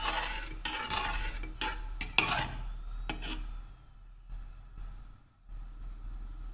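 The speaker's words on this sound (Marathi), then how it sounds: "हलवत राहायचं आहे जोपर्यंत ती मेल्ट होत नाही व छानपैकी असं तिला ब्राऊन कलर येत नाही." Sugar being stirred in a pan as it melts and browns, a close scraping and rubbing in repeated strokes with a few sharper clinks of utensil on metal, fading quieter toward the end.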